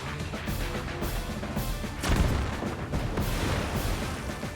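Battleship attack in Advance Wars 2 game: a dense run of booming artillery-like blasts and crashes, with a louder impact cluster midway, continuous and fairly loud throughout.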